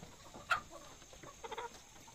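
Native chickens of mixed colours clucking nearby at low volume, with one sharp squawk followed by a short run of quick, soft clucks over quiet background.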